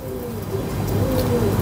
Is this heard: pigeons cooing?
yes